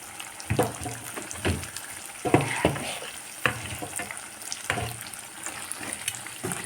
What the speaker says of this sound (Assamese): এতিয়া মই মেৰিনেট কৰি থোৱা মাংসখিনি ইয়াত এড কৰিছোঁ।